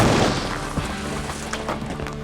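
An ice block bursting in flaming thermite gives one loud, sharp boom with a crackling crash that fades into a short rumbling tail.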